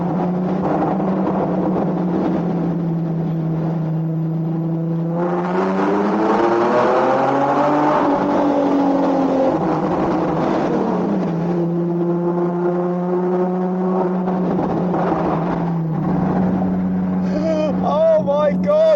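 Nissan 370Z Nismo engine revving while being driven, a loud, sustained drone that climbs sharply in pitch, falls back, then rises again under intermittent talk.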